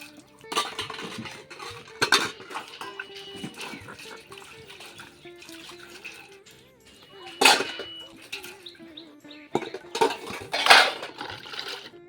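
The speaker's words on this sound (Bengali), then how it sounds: "এক এক করে সমস্ত বাসন মেজে দেখো ধুয়ে নিয়েছি অনেকগুলো বাসন" Dishes being washed by hand with water, pots and utensils clattering and scraping in bursts amid splashing, with someone talking over the work.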